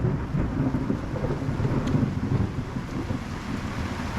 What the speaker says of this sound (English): How rude to interrupt me with a thunder strike or a lightning strike and a thunder echo like that.